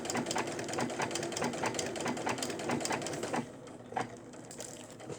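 A sewing machine running a back-and-forth stitch through fabric, a quick regular clatter that eases off near the end, leaving softer isolated ticks.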